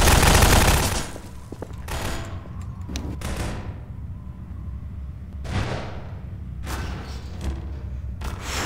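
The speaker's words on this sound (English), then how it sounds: "He's gonna grenade launch me." Grenade launcher fire in the video game Prop Hunt: a loud opening blast followed by several scattered thumping explosions, some nearer and some distant.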